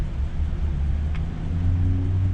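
A heavy vehicle rumbles past with a deep, steady low engine drone and some road noise, moderately loud, no talking.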